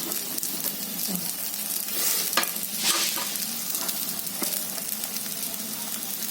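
Potato and bread cutlets shallow-fry in a pan, crisping with a steady close sizzle and crackle and occasional louder pops, no voice over it.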